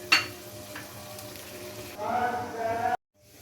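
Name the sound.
mixed vegetable curry with water cooking on low flame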